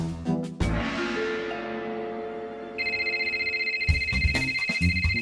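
A ringtone melody plays with tonal notes, then a higher electronic ring repeats in steady pulses, fairly loud and close, with no talk.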